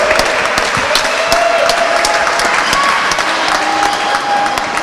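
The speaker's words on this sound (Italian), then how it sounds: "Applausi a scena aperta per la squadra giallonera" A crowd at a women's Serie A2 basketball derby in Selargius applauds the home yellow-and-black team with steady, dense clapping throughout, loud and continuous, a few faint whistles riding above.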